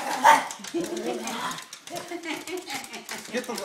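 A dog at a front door gives a burst of barks and then whimpers and whines, close and fairly loud, with people talking over and around it.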